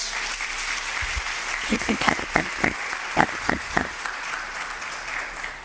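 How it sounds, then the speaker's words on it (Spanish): A church congregation applauds steadily for several seconds during a sermon, many hands clapping together over a roomy background wash, with a few louder claps standing out. "Dale un fuerte aplauso al Señor si le crees a ese Dios"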